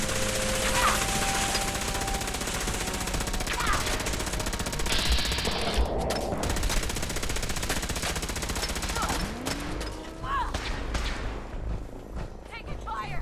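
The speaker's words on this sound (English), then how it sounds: "Taking fire." Gunfire crackles through a firefight in the video game Fallout 4, with rapid automatic bursts and scattered shots layered over continuous game noise, while a voice speaks briefly.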